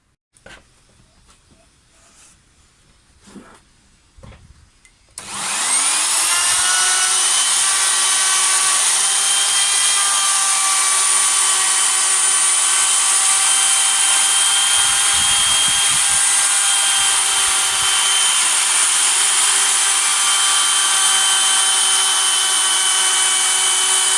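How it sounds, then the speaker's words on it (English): A few quiet knocks, then a hand-held power drill starts drilling wood and runs at a constant loud, high whine until the end. "otherwise that would be the obvious thing to do rather than doing it with a hand drill"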